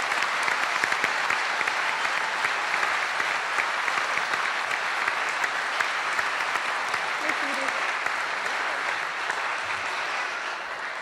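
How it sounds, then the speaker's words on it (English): A large audience at a commencement ceremony applauds continuously with dense, sustained clapping that fills the hall, loud and even, easing slightly at the end. "everyone give them a round of applause"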